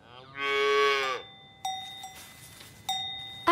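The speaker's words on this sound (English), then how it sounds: "It's a cow." A spotted calf gives one long, loud moo nearby, followed by two short bell-like clanks against a quiet background.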